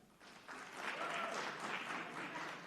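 A rally audience at Norfolk State claps in response, starting thin and then building into a fuller, steady round of applause that stays moderate in loudness, with faint voices underneath.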